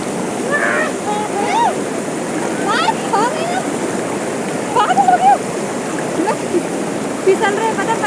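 Water from a waterfall and stream at Maldevta rushes continuously and loudly nearby, with occasional splashes, while voices call out and talk faintly over the steady roar.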